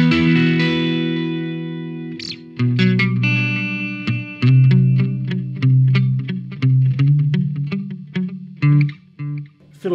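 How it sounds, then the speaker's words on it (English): An electric guitar plays a rhythmic riff through a tap tempo delay pedal, each note trailed by repeating echoes, with a fading opening chord first. "which is a tap tempo delay"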